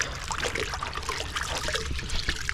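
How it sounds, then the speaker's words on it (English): Water trickles and splashes steadily as a cloth is rinsed in a bucket on a building site, during brick threshold work on a garage door with red engineering bricks; a continuous close wet dribbling with no voices. "I'll just get this cloth, give it a rinse."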